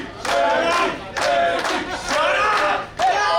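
A rowdy crowd at an intergender Limitless Wrestling match roars and shouts in three loud, sustained surges with brief dips between them, no commentary over it.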